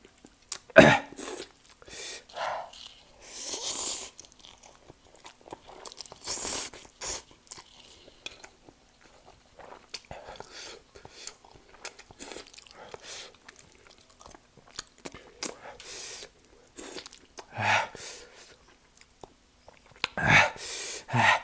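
Someone eats spicy Korean chicken-flavoured instant noodles up close, with intermittent slurps, chewing and crunchy bites scattered across the stretch, plus a throat clear and gasps, and no talking.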